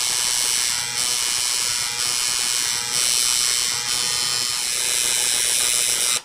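Tattoo machine buzzing while shading black ink into skin: a continuous high, rattling electric whir held for about six seconds, briefly dipping at regular intervals as it moves, then cutting off abruptly at the end, with no voices.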